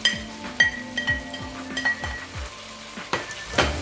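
Green beans, carrots, a scotch bonnet pepper and garlic sizzle and crackle in a pot for a Cameroonian potato hot pot, with repeated clinks and scrapes of a stirring utensil against the pot rising over the frying.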